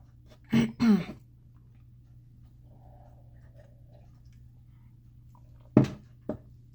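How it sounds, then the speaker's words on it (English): Two short, close throat clearings in a quiet room, then silence over a low hum, followed by another quick throat clearing and a softer grunt near the end. "No, just clear my throat."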